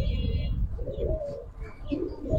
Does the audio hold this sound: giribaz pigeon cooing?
yes